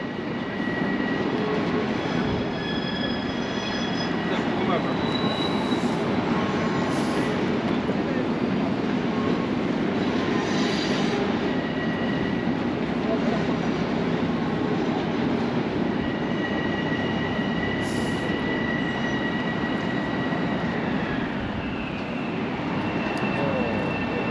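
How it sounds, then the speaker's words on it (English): A subway train rumbles steadily nearby at Hudson Yards, New York, coming in to stable, with a constant low roar and faint high squeals, continuing throughout without pause. "There is a train coming into Hudson Yards and stabling."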